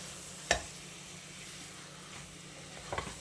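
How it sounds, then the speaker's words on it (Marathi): Chicken pieces sautéing in a spicy masala pan give a soft, steady sizzle, broken by two sharp clinks of stirring near the start and end. "चिकन घालून घेऊया परतून घेऊया हे मसाल्यामध्ये"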